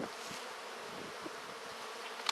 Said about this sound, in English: These are very nice bees.